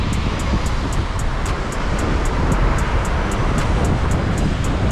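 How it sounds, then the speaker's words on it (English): Strong wind blows steadily through downtown Houston streets in the rain, a loud continuous broadband rush with no pauses and no voices. "look how crazy the wind is right now"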